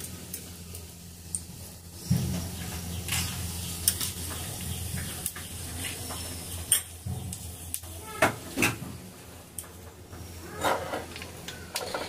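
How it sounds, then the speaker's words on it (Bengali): Chili and cumin tempering in hot oil in a pan, a soft background sizzle broken by scattered metallic clinks and scrapes of stirring, moderately close and without talk. "এবার তেল দেব, দিয়ে দেবো একটা লঙ্কা বড়, আর দিয়ে দেবো একটু জিরে।"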